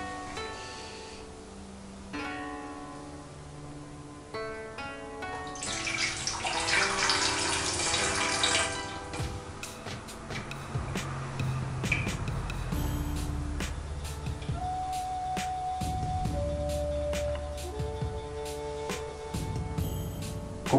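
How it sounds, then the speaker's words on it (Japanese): Water from a tea bowl is poured into a kensui waste-water bowl during a summer Urasenke tea ceremony, giving a continuous splashing trickle that rises, then tapers into scattered drips. "その後は茶碗に入っているお水を懸垂の上で戻します。"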